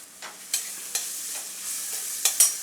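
A spoon stirring and sautéing ingredients with salt in a pan while cooking a chana dal and drumstick amti, with soft sizzling under repeated light scraping strokes spaced about half a second apart, close and fairly quiet, no voices.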